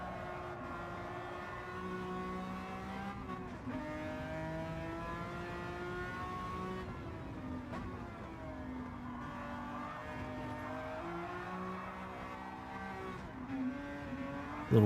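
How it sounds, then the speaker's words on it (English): Ferrari race car engine in a racing video game at a Goodwood event, a steady, loud, continuous engine drone that shifts pitch up and down through gear changes and revving for the whole stretch. "let's take a listen to that Ferrari."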